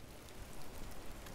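Steady rain falls on a greenhouse build site, a dense, even patter of drops with no talk over it.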